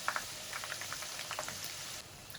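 Chicken-stuffed wontons frying in oil over medium heat, five at a time, give a faint, steady bubbling crackle with small scattered pops throughout.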